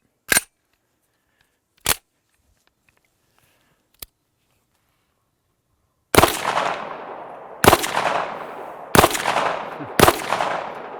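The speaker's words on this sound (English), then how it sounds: "You definitely shot much faster with the Banshee." Gunshots from a Banshee gun ring out as sharp cracks: three isolated shots spaced apart, then four louder, faster shots with short decaying echoes, close and clear with no talking.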